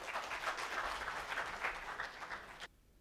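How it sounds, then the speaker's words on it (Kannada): An audience claps in loud, dense, sustained applause that stops abruptly near the end. "ಜೋರಾದ ಚಪ್ಪಾಳೆ ಬರಲಿ."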